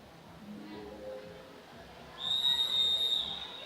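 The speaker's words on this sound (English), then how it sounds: "So the whistle sounds," A referee's whistle blows once, a sustained shrill tone lasting about a second at the start of a junior women's omnium scratch race on a cycling track in Adelaide, heard above low, murmuring arena ambience.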